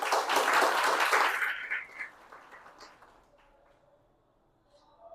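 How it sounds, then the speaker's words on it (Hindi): Audience in a devotional talk hall bursting into applause, a dense wash of many hands clapping for about a second and a half before fading quickly into a quiet room. "थोड़ा अपने लिए ताली बजा दीजिए।"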